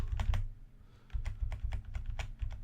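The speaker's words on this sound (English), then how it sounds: "Sorry for keyboard noises." Typing on a computer keyboard, close by: a quick burst of clacks, a short pause, then a longer irregular run of keystrokes, with no talking.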